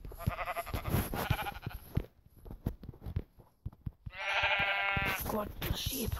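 Minecraft sheep bleating loudly, a wavering bleat at the opening and another long bleat near the end, with a voice talking over the game sounds.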